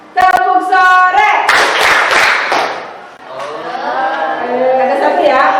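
Schoolchildren clap in a patterned classroom game, a sustained flurry of claps close by mixed with group chanting, fading briefly before voices rise again.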